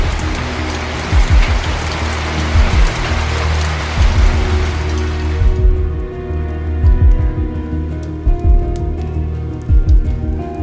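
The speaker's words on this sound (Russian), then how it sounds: "Там уже тучи сгущаются, и дождь сейчас начнется" Loud, dense rainfall in the Minecraft video game hisses for about five seconds and then cuts off abruptly, while low rhythmic thuds continue underneath throughout.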